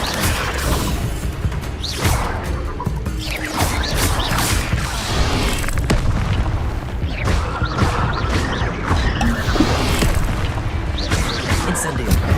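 Incendio fire spells cast in Hogwarts Legacy combat, with dense rolling booms, whooshes and crackling impacts that fill the scene continuously at high volume.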